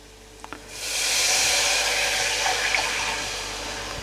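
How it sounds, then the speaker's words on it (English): Water poured into a pot for a fennel seed curry: a steady broadband rushing stream starts after a faint clink, stays loud and close, then slowly tapers off, with no talking. "we're going to add 1 cup of water into this"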